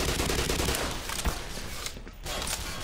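Military gunfire in the video game Black Mesa: continuous rapid automatic bursts, dense and loud, with a brief gap before the firing resumes.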